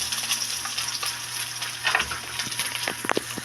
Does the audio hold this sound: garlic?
yes